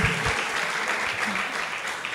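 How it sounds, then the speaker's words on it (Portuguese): Studio audience applauding on a Brazilian comedy talk show, a dense, steady burst of clapping that fills the whole short stretch with little else heard over it. "Aplausos pro Valdemir aqui, falando pelas costas."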